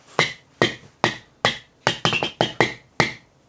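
A squeaky toy hammer (piko piko hammer) strikes about ten times in an uneven rhythm, each hit a sharp, close plastic smack with a brief squeak, including a quick cluster in the middle.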